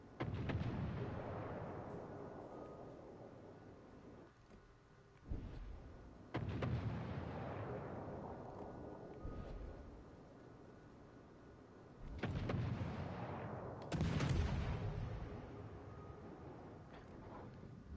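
Naval artillery salvos booming in World of Warships: Legends, several heavy blasts with long rumbling decays spaced across the stretch, loud and alone without talk.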